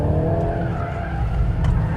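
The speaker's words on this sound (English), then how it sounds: "We have it in drift mode." A VW Golf R Mk 8.5 in drift mode slides with a continuous loud engine drone and rough tire skid noise, steady and close throughout with no talk.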